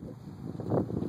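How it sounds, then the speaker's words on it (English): Breezy outdoor wind buffets the microphone as a low, rushing rumble that swells and eases across about a second, with no voices. "It's kind of breezy."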